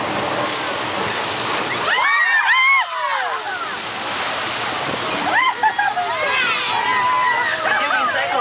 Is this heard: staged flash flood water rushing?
yes